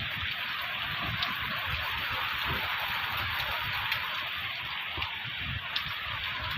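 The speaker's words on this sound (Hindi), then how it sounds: "बहुत बारिश हो रहा है गाइस," Heavy rain pours steadily as a dense, constant hiss, with scattered drops striking nearby surfaces throughout and no voices.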